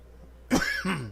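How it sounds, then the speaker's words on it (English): A race announcer gives a single close, sharp cough that turns into a short throat-clearing rasp, loud against an otherwise quiet background. "A little bit of a cough here this evening"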